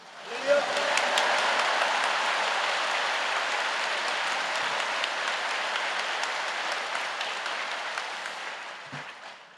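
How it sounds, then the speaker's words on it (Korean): A church congregation at a Yoido Full Gospel Church Sunday service gives sustained, enthusiastic applause, a dense wash of many hands clapping at steady loudness for several seconds before tapering slightly at the end. "할렐루야로 뜨거운 박수로 우리 목사님 모시겠습니다."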